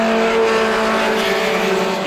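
Roadrunner-class race cars at Star Speedway roar away at the start of a heat, a loud, dense wall of engine noise with rising whining tones, continuous and close throughout.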